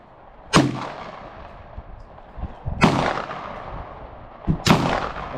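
Sharp, loud reports from a gun at an outdoor shooting range, three separate shots spaced a couple of seconds apart, each with a short decaying tail and no talking.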